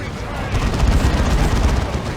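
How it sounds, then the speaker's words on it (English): Lascannons fire in the Warhammer 40k strategy game Dawn of War 2 Retribution, a loud, dense barrage of blasts and rumbling booms that runs continuously through the whole moment. "So Las Cannons on either side firing in here."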